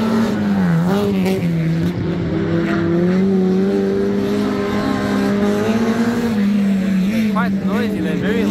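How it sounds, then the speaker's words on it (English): Small 1600 cc rallycross race cars, including a Citroën, scream around a mixed tarmac and dirt circuit, a loud sustained engine drone with shifting pitch as they accelerate, with a voice talking over the noise. "Quite noisy, they're very loud cars"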